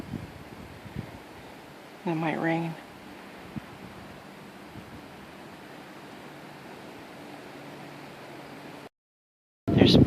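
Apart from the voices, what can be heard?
strong wind blowing in a park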